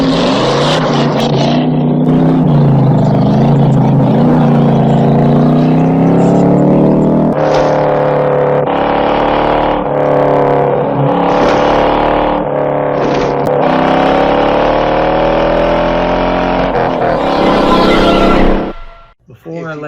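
A Ford Mustang Bullitt accelerates hard during 0 to 60 and 0 to 100 runs. The loud, close engine roar climbs in pitch through several gear changes, then drops away at the end.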